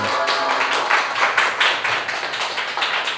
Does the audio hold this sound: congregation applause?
yes